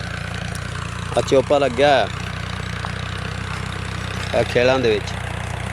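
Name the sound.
tractor engine with planter attached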